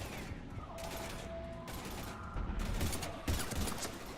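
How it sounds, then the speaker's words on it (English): Heavy gunfire from Mass Effect 3 combat against husks, dense mechanical clattering bursts and rattling shots at a low, steady level with no speech. "We're taking heavy fire."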